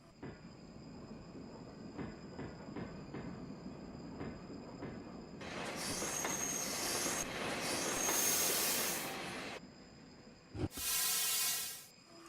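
An inter-urban train rolls along in Train Simulator Classic on a San Francisco to Sacramento route, its wheels clicking steadily before loud squeals and hissing build up and then cut off, with a final sharp burst of hiss.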